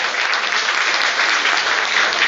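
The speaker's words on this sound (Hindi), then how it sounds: "छोटा तालियां भारतवाज जी के लिए" A lecture audience at a yoga talk gives Bharadwaj a short, dense round of clapping, loud and steady throughout with no voices over it.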